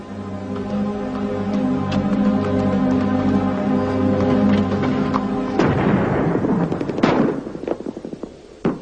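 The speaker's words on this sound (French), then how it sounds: "C'est un obus." An artillery shell fired in the mountains goes off with a sudden loud boom that rumbles and echoes off the hills, breaking through a steady droning background. A few sharp cracks follow.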